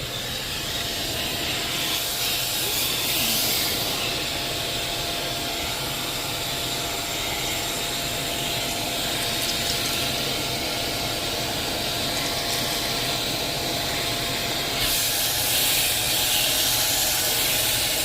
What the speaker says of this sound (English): Red means I activated the steam mode